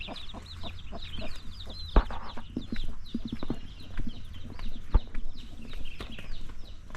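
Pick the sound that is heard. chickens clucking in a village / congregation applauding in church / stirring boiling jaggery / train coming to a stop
chickens clucking in a village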